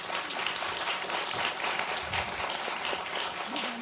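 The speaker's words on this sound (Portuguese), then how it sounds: "Uma salva de palmas para ele." An audience at a TOTVS Developers agile metrics tech event in São Paulo applauds a speaker coming on stage, making a steady wash of dense clapping that stays even throughout.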